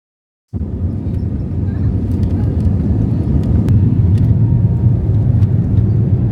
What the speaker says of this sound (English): we began taxiing